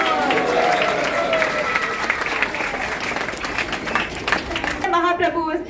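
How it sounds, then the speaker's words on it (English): An audience at an ISKCON Bahrain Gaura Purnima drama gives a big round of applause, steady clapping mixed with cheering and voices, then speech takes over near the end. "Let's give them a huge round of applause."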